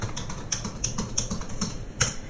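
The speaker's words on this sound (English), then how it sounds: "Now once again type your password." A password is typed on a computer keyboard in a run of about a dozen crisp, quick keystrokes, close and moderately quiet with no talking.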